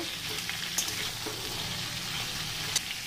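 Mixed vegetables for Bengali shukto frying in oil with bay leaf and five-spice tempering, a constant close sizzle with faint stirring clicks scattered through the short stretch.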